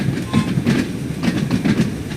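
A Class 483 electric train in LT red livery runs on Isle of Wight rails in Train Sim, giving steady rumbling running noise with rhythmic clickety-clack wheel beats, heard loud and close from the cab with no talk.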